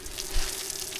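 Steady rushing water from a motor-driven water pump pours and splashes continuously, a dense gushing hiss close by.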